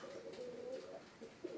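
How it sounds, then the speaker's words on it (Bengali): Pigeons sitting on eggs at a pigeon farm give a steady, low, throaty cooing that runs on continuously, with one slightly louder coo near the end and no voices. "এই কবুতরগুলো ডিম নিয়ে"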